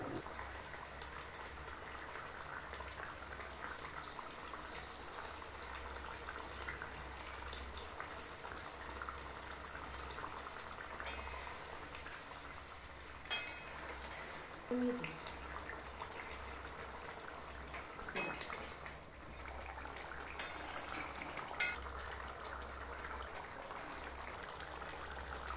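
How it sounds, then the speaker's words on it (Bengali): A pangas fish curry simmers in a pot, producing a soft, steady bubbling that stays fairly faint, with a few light clinks scattered through. "ঝোলটা ফুটে গেছে, এবার মাছগুলো দিয়ে দেবো"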